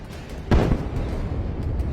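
Explosion of a Russian tank struck by an FPV drone in Donetsk, a single loud blast heard at a distance, followed by a lingering rumble and faint crackling.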